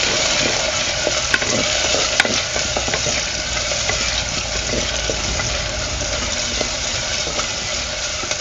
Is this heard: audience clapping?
no